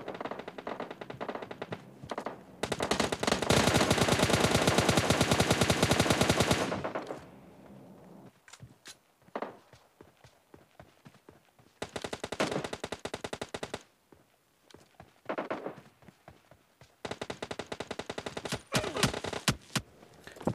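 Assault rifle fire in the mobile battle-royale game PUBG Mobile Lite: a long sustained automatic burst, then shorter rapid bursts and single shots separated by pauses, loud and close with no talk.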